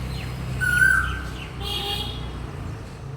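An Asian koel calls from trees on a calm morning, near mango trees in full blossom. One clear whistled call rises above a steady outdoor background, and other birds are faint behind it.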